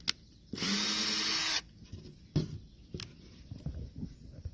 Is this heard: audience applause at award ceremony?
no